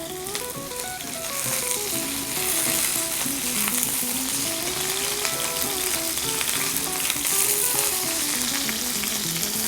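Steak, a dry-aged Holstein sirloin, sears in a hot pan with a steady, loud sizzle and crackle throughout, with music-like tonal lines running underneath and no talking.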